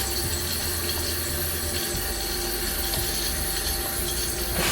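Water runs continuously in a leaky, overfilled toilet with a faulty fill valve, a steady close hissing flow with a low rumble and no break or talk.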